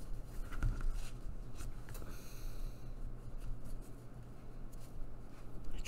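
Scissors cutting scrap card for a craft project, with soft intermittent snips and rustling over a low background hum, faint and close.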